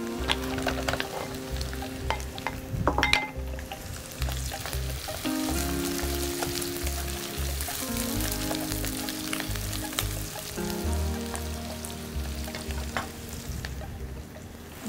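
About 500 grams of boiled potatoes frying in a pan with bay leaves, a continuous sizzle with occasional scraping and knocking as they are stirred, under a steady background hum.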